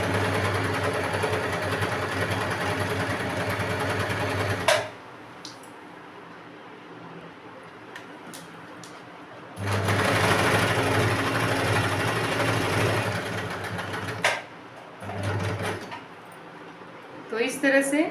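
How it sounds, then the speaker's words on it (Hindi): A sewing machine runs stitches over folded buckram fabric for a blouse neckline, two long, steady, close whirring runs of several seconds each, separated by a quieter pause with soft handling sounds. "और इसके ऊपर से सिलाई चलानी है।"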